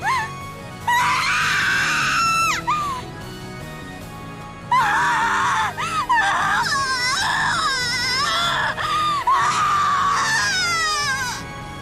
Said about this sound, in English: Erika crouched, screaming and clutching at her head.